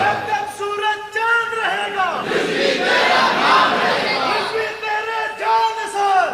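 A crowd at a religious gathering roars in unison, chanting slogans in loud, sustained waves of massed voices that swell between stretches of a lone amplified voice.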